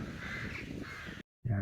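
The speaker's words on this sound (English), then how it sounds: "there's a huge amount of crows there, and these crows were just circling there" Crows cawing around Treyford Manor in rural countryside, harsh calls carrying over wind noise and footsteps outdoors, with a brief silent gap near the end before the sound returns.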